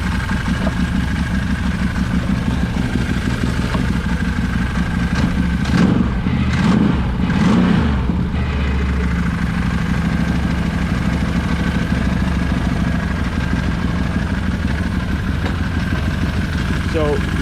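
A Can-Am Maverick 1000R engine idles in a steady, close, loud drone for the whole stretch, with a brief rise in the middle, and a person talks over it at times.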